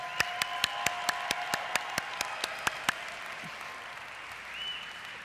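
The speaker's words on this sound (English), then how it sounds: "So let's give him a strong applause." Sparse applause from a lecture audience: a dozen sharp, evenly spaced claps over the first three seconds, fading into a soft room murmur with no further clapping.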